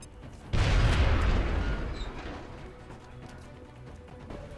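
A frag grenade explodes in the video game XCOM Enemy Within: one sudden heavy boom with a rumbling tail that fades over a few seconds.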